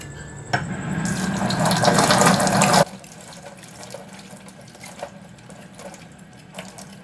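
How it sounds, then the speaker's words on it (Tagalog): Water running steadily from a broken faucet for a few seconds, then cutting off, leaving faint drips and a quiet room. "Sira ang gripo namin guys. Yan, magtulo-tulo."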